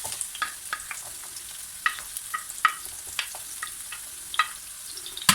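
Onion frying in hot oil in a home kitchen, with a soft steady sizzle broken by sharp clicks and scrapes of stirring, close and fairly quiet with no voices.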